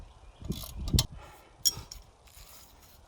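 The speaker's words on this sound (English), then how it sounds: "I've got a ratchet wrench here." A ratchet wrench tightens a bolt on a homemade culti-packer built from pipe, giving a few short, close mechanical clicks and clatters in a quiet workshop setting.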